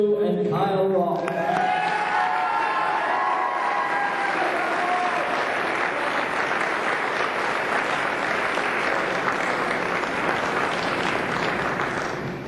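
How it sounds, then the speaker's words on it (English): A basketball senior night crowd claps and cheers for seniors and their parents, a loud sustained wash of applause that begins over a brief announcer's voice and carries on steadily to the end. "let's give our seniors and parents one last round of applause"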